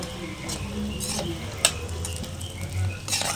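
Goat brain podimas is stirred in a sizzling frying pan, a soft, continuous scraping and shuffling over a low hiss. A couple of brief utensil clicks cut through it.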